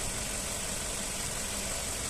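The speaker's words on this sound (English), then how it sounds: "engine sound nice and smooth" A Ford Focus 1.8 Zetec petrol estate engine idles steadily with a continuous low, even rumble that stays constant throughout, with no voices.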